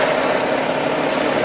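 A BMW X6 engine running smoothly after repair, a low, steady idling hum that stays even and unbroken throughout.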